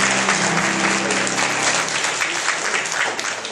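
Warm applause from an audience at a Chorzelów municipal award ceremony honouring exceptional women of Mielec commune, steady dense clapping filling the whole moment without a break.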